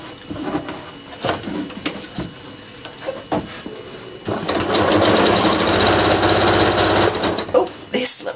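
A sewing machine top-stitches a drawstring bag, starting with scattered clicks and short bursts before settling into a loud, continuous close-up run, then stopping abruptly; a voice speaks briefly near the start.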